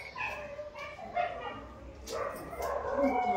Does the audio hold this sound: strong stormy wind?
no